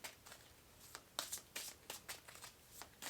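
Oracle cards are shuffled by hand in quiet, soft papery riffles and slides in irregular bursts, close and faint, with no talking.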